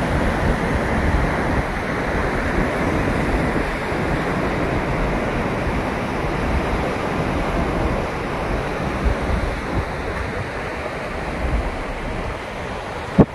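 Shallow sea off the end of a boardwalk at Cape Santiago sends up a continuous, loud wash of surf mixed with wind buffeting the microphone, steady throughout with no voices.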